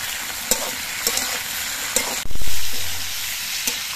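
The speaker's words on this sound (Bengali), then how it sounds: "আমি আলু আর শিমগুলো ভাজার সময় অল্প করে নুন দিচ্ছি।" Potatoes and flat beans fry loudly in a pan with a bright continuous sizzle, punctuated by a few stirring scrapes and one sudden surge of hissing as they are turned; no talking.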